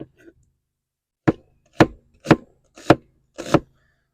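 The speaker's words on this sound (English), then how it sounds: "I do about half an onion here." Knife chopping half an onion on a cutting board at an outdoor camp table, five sharp, evenly spaced chops close up after a brief quiet pause, with no talking.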